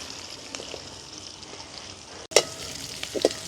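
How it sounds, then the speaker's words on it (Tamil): Sliced onions and green chilies sizzle in a pan over a village cooking fire, a steady soft frying hiss with a brief gap and a few sharper crackles and stirring scrapes near the end. "வெங்காயம் பச்சை மிளகா அப்படியே வதங்கிட்டுருக்கு"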